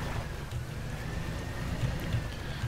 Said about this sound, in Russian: Вот этот звук турбинок двигателя, он прикольный.